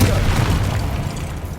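Confringo fire spell blast in Hogwarts Legacy, a loud, deep booming burst that rumbles and decays across the moment, with no talk over it.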